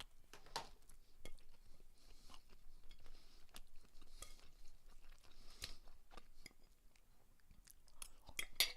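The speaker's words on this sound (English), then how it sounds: "Sorry about the chewing." Someone chews food right next to the microphone while watching a live Xfinity Series NASCAR playoff race at Las Vegas. The quiet, crunchy mouth sounds repeat steadily with no talking.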